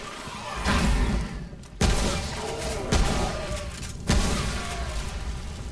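Gunfire in the video game Remnant: From the Ashes, several sharp loud shots spaced about a second apart, each with a booming tail, over game ambience with no talk.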